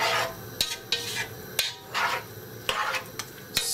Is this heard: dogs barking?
no